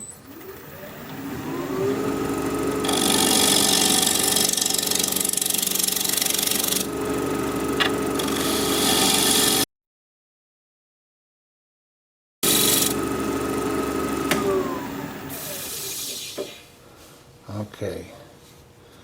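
A wood lathe spins at 1400 RPM while a tool flattens the face of a bowl blank, producing a steady motor hum with rough scraping cuts, briefly silent, then resuming and winding down.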